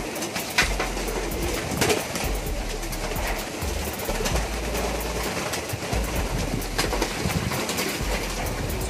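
Pigeons kept in a loft make low cooing and rustling amid a dense, continuous hum of background noise, the birds close and steady throughout with no talking.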